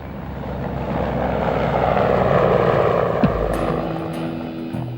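Mi-24 Hind attack helicopter with twin turbine engines, a steady loud rotor and turbine roar that swells slightly mid-pass and holds throughout, with no voices.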